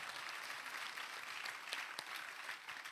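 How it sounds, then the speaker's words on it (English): An audience claps together in an event hall, a fairly quiet but continuous patter of hands with a few sharper individual claps standing out over about three seconds, with no talking. "Can we make that clap louder and better?"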